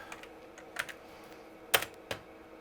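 Keystrokes on the computer keyboard of a 1986 Opus PCII V20-based PC XT, a handful of sharp, scattered clicks at close range over a quiet room hum, with no talking.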